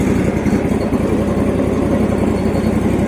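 DR field and brush mower with an 18 hp engine running steadily with the PTO engaged, a loud, close, rough continuous drone without any talk.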